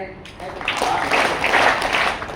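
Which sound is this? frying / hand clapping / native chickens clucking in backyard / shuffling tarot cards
hand clapping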